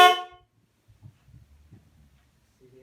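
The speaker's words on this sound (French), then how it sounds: "il y a une voiture qui me klaxonne" A car horn gives one short, loud honk at the start in city traffic, then fades into faint low engine rumble and distant street noise.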